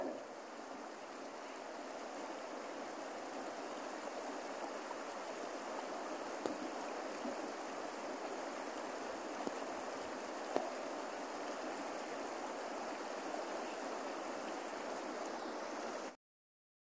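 A river at Aringay, La Union, flows with an even, steady rush of water at moderate volume, with a few faint clicks, then cuts off abruptly near the end.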